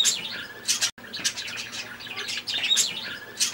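Caged ornamental birds, lovebirds and finches kept at a rural homestead, chirp and tweet in a busy continuous chorus of overlapping high calls, close by, with a brief gap near the start.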